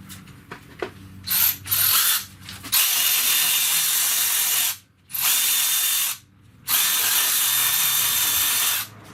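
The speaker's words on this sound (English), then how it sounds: "Now we'll switch over to our ratchet." Tool work on the bolts of an LS V8 engine: a few close ratchet clicks, then three long bursts of loud whirring power-tool noise separated by brief silences.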